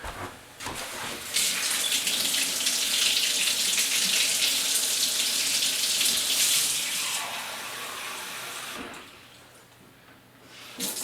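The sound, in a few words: salt water poured into a jar of carrots for fermenting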